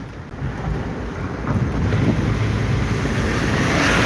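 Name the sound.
water spraying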